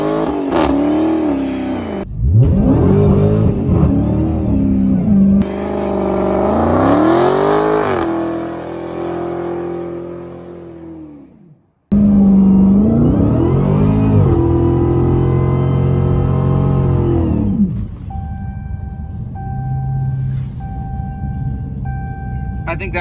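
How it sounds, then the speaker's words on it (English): A high-horsepower production car with its line lock engaged does a burnout, engine revving hard in rising and falling sweeps with loud sustained roar, close up, broken by brief pauses; a person talks during parts of it. "I think that qualifies as a pretty decent burnout."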